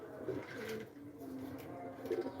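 A two-day-old racer pigeon chick begs for food with soft, repeated cooing squeaks, faint and close, continuing through the short stretch.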